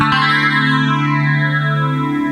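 A single guitar chord in DADGAD tuning, tuned down a whole step, rings out bright and full, with a wide shimmering effect and long sustain slowly fading.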